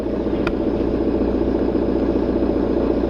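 A car engine idles with a steady low rumble as a learner driver slowly lets out the clutch in first gear, without pressing the accelerator; the hum stays even and continuous.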